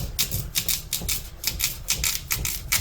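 A knife saws through a fibrous white yam with rapid, rhythmic scraping strokes, close and moderately loud, without any voices.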